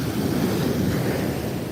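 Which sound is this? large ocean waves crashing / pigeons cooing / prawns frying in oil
large ocean waves crashing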